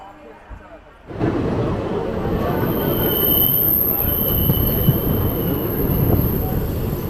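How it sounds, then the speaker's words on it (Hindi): A Bhagalpur–Jaynagar Intercity Express rolls by at a station, a loud steady rumble of rail cars with high wheel squeal running throughout after a sudden onset, close and continuous. "Bhagalpur Jaynagar intercity express."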